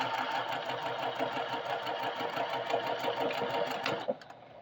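A sewing machine stitches fabric at a steady fast pace while chain piecing, its close rapid mechanical whir running continuously before stopping abruptly near the end.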